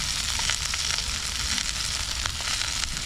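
Tilapia frying in a pan, a dense continuous close sizzle and crackle of hot oil with small spattering pops, loud and steady throughout.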